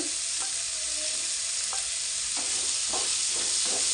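Onion fries in oil in a pan for a horse gram curry, a steady, even sizzle with a few soft stirring clicks, and no voices.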